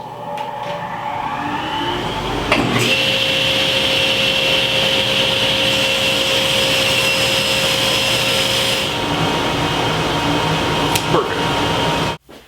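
Table saw trimming a thin sliver off a board in a workshop for a SawStop outfeed table; a loud, steady motor whine runs the whole time, with the blade's pitch dropping briefly as the cut is taken, then cutting off abruptly at the end.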